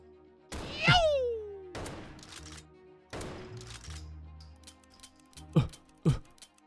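Several loud, booming shotgun blasts with ringing tails, fired in a Jeff the Killer maze game and spaced seconds apart, with spoken words heard between shots.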